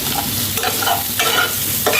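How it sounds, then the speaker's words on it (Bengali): Potatoes frying with green chillies in a pan sizzle loudly and close by, with repeated scraping stirs breaking through the steady crackle. "এবার আলুটা একটু ভাজা করে নিই।"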